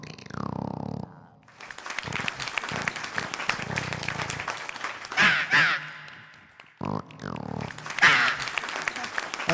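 A comedy show performer mimics a crow cawing to call guests, with harsh repeated caw-like bursts amid stage chatter, followed by loud audience applause rising and falling across the stretch.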